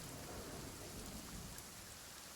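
Steady, dense rainfall from the Nightingale survival crafting video game, a constant wash of drops pattering on surfaces, even and fairly soft throughout with no voices.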